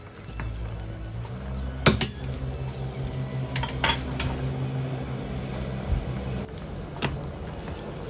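Soaked noodles being drained in a kitchen, with a soft watery wash under clattering pots and utensils, including a sharp metallic clank near the start and a few lighter knocks later.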